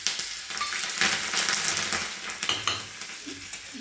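Mustard seeds, cumin, turmeric and chilli pieces sizzle in hot oil for a tempering, a loud, steady close-up crackle with small pops and spoon scrapes throughout.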